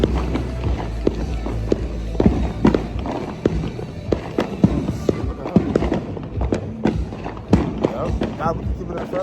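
Fourth of July fireworks and firecrackers are lit and go off outdoors as a string of sharp cracks, pops and thuds. Loud, overlapping talk from several people runs throughout.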